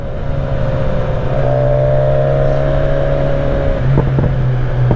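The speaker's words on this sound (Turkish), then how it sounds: "Bunun egzoz patlatması da güzel" A BMW S1000RR motorcycle engine on a cold ride drones steadily and rises in pitch as it revs, with a few short crackling exhaust pops near the end; no one speaks.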